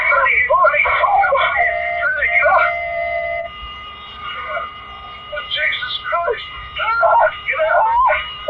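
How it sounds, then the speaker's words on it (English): Voices scream in fear aboard Western Airlines Flight 2605 just before its 1979 crash in Mexico City, rising in pitched, strained bursts that overlap with one another. A steady mechanical tone runs beneath them, and there are short lulls between waves of shouting. "those were grown men screaming in fear as they faced death"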